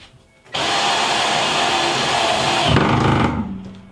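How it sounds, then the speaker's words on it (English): A loud, steady mechanical whine of a power drill running for about three seconds, then slowing and stopping with a thud near the end. "Wow, I need a better drill bit if I'm gonna get through that."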